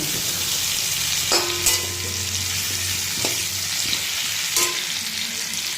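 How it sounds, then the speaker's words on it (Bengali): Potatoes sizzle steadily in hot oil, with a few sharp metallic clinks and scrapes of a spoon against the pan, close by. "মাংসর আলু আর হচ্ছে মাছের আলু একসাথে ভেজে নিচ্ছি"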